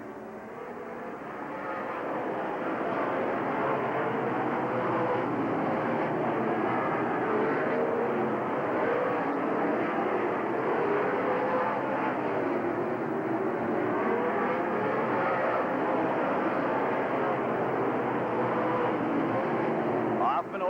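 Late model race cars roar around Rockford Speedway in a tight heat race, a steady, dense wash of engine noise sustained throughout with an announcer talking over it.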